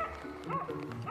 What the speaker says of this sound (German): Man hört es am Bellen.